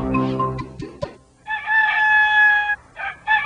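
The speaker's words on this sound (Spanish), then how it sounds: "¿Por qué canta el gallo?" A rooster crows loudly nearby, one long sustained call followed by a shorter second crow, after some clucking at the start.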